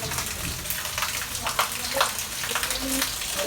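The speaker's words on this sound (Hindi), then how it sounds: "बारिश हो रही बहुत तेज़।" Heavy rain pours outside a window, a steady dense hiss with scattered droplet patter, moderately loud and continuous throughout.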